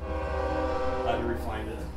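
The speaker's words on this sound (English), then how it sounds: "It's a pretty active train track." A train passes on a busy nearby track, its sustained, loud horn tone sounding over a low rolling rumble for the whole two seconds, with a voice heard briefly.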